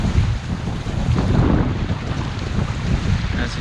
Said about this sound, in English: as you see, the waves are pretty bad. Very windy.